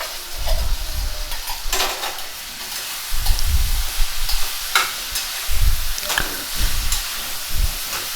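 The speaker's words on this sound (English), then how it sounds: "Mix it thoroughly so that it reaches every corner of the gobi." Gobi manchurian cauliflower pieces are tossed and stirred in a hot pan, with repeated scraping and clattering strokes over a light background sizzle, fairly close and loud.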